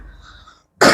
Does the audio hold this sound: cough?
yes